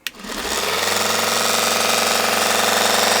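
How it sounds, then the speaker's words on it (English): A small Temu mini belt sander switching on, with a sharp click and then a loud, steady, fast-pulsing motor and belt whir running continuously and close, ready for knife sharpening with an 18-degree guide. "now I'm going to turn my machine on and very carefully use that 18-degree guide to lightly sharpen"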